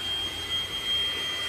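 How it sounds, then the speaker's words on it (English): A vacuum cleaner runs with a steady whine and a thin high tone while cleaning a big green tractor, heard alone at moderate loudness with no talk. "You gonna vacuum my big green tractor?"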